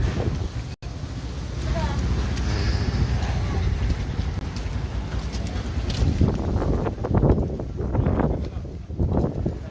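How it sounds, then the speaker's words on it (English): Strong wind buffets the microphone outdoors in a Philippine town, a steady loud rushing roar that gusts and swells throughout, with faint background activity mixed in. "Here comes the wind back."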